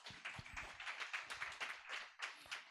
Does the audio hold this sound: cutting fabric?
no